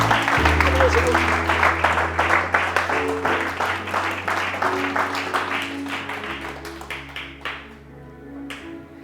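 Church congregation bursts into applause acclaiming the Lord, a dense wash of many hands clapping with scattered cheers over a sustained organ or keyboard chord, the clapping thinning and fading toward the end.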